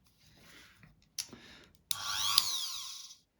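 A rotary tool fitted with a grinding attachment for sharpening a knife, running at its first, lowest speed: brief starts, then a steady high-pitched whine and grind that stops abruptly after about a second.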